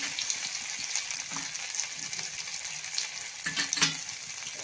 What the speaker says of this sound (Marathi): मगाशी वांगे परतून घेतले, त्याच्यामध्येच फोडणी करून घ्यायलेलो आहोत आपण